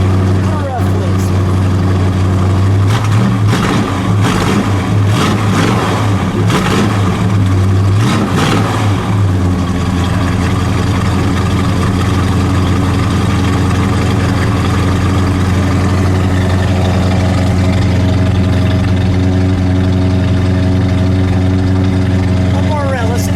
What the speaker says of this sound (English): Rev, please.